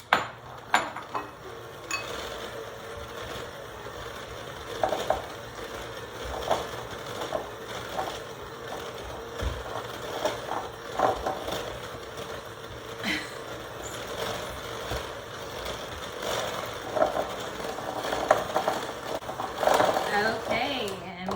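An electric mixer creams granulated sugar in a bowl for pumpkin pie cookies, giving a steady mechanical whir with irregular knocks and rattles that runs throughout, with a voice talking over it.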